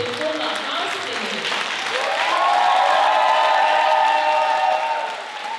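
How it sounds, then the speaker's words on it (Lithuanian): Audience applause for a choir and its singers at a regional museum's 90th anniversary celebration, a dense, steady wash of clapping that swells and holds for several seconds, fairly loud and close. "Aplodismentai meno vadovai ir dainininkai Jovita ir Kūna Austinė."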